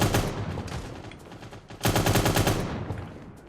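Gunfire in Cyber Hunter, rapid automatic bursts, loud and close, with a short lull before a dense second burst that trails off.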